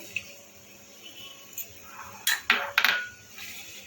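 A cashew and poppy seed paste is stirred into spiced Kashmiri aloo dum: quiet, close scrapes and clinks of a spoon against the pan, with a cluster of stronger strokes near the end.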